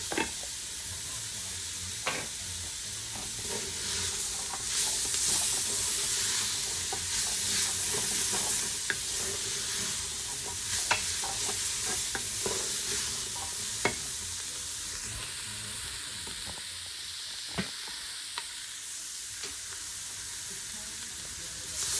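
Chickpeas tumble into a hot curry pan and get stirred, a steady sizzle with scraping spoon strokes and a few sharper clinks, close and fairly loud throughout.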